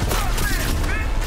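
Gunfire in Cyberpunk 2077 Phantom Liberty: a loud, dense burst of shots and booms fills the whole short moment, with a voice mixed in underneath.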